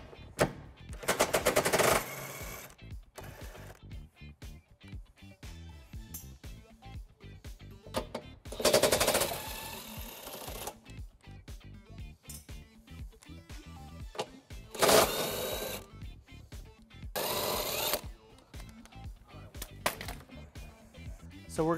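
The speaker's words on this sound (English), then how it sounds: "Now we're going to remove our bumper beam by removing 3 flange nuts on both sides." Impact wrench with a 15mm socket spinning off flange nuts from the bumper beam of a 2020s Tesla Model Y, loud rapid rattling bursts separated by quieter gaps and clicks, no talking.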